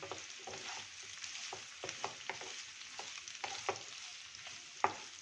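A spoon stirs boiled potatoes into fasting khichdi in a pan, giving soft repeated scrapes and light knocks over a faint, quiet sizzle, with no voices.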